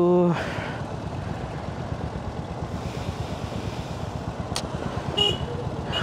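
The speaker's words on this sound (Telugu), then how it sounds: "ఏంది ట్రాఫిక్" Road traffic heard from a Royal Enfield Hunter 350 motorcycle in town: a continuous low engine drone with passing vehicles and two short horn toots near the end, and a brief voice at the start.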